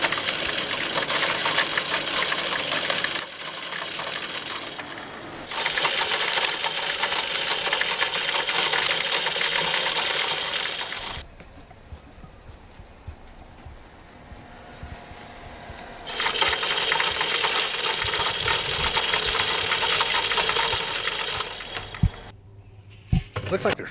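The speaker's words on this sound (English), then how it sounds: "I'm just gonna get the feeder to throw some more corn out." An automatic game feeder's motor spins up to throw corn, a loud whirring buzz in several bursts of a few seconds each, separated by quieter gaps where the motor stops, ending with small knocks and rustles.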